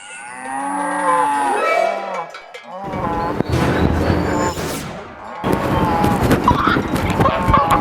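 A cow moos loudly in a stable, with long drawn-out lowing calls in the opening seconds, then broader noisy farmyard sounds and voices follow.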